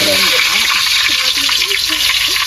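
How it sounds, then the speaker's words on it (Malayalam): Mustard seeds splutter and pop in hot oil, a dense, loud sizzle with scattered crackles running steadily throughout, close to the pan. "നമ്മുടെ കടുക് പൊട്ടുന്നു സൗണ്ട് കേട്ടാൽ കടുക് പൊട്ടിക്കൊണ്ടിരിക്കുന്നു"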